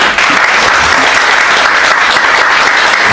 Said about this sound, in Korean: 여러분들 박수 한번 보내주시지 않겠습니까?